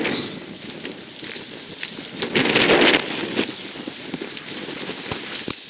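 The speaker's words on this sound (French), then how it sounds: "Le vent se lève." Wind gusting outdoors in open countryside near a field, rough blustery noise on the microphone swelling to a strong gust in the middle, then settling, with no voices.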